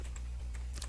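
A few quick clicks of typing on a computer keyboard, faint and close, over a steady low hum.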